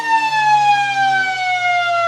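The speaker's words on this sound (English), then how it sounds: "And just before the siren" Australian football ground siren at a Lower South West country league match between Boyup Brook and the Tigers, a loud, steady, sustained wail with a slowly falling pitch, holding alone for the whole stretch.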